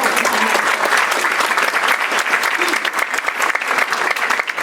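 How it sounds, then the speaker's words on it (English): A crowd applauds loudly and steadily at a gala, dense clapping filling the whole stretch without a break. "how about a round of applause for that show?"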